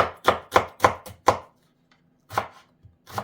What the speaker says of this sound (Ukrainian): ми ріжемо з вами цибулю ріжемо її на квадратики